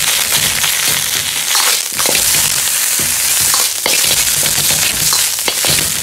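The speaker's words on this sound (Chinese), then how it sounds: "翻炒几下炒出香味" Ginger and scallion stir-fried in a hot wok with a splash of cooking wine, a loud, dense sizzle and crackle running steadily throughout, broken by a few sharp scraping strokes of the spatula, with no voices.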